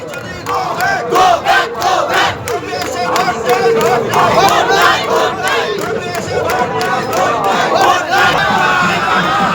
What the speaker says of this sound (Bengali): কর্মীরা তারা দাঁড়িয়ে রয়েছেন, তারা স্লোগান দিচ্ছেন